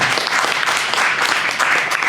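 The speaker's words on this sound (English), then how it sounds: "And I wish we could clap for her again." An audience claps steadily and densely in a continuous, moderately loud wash of applause, without talk.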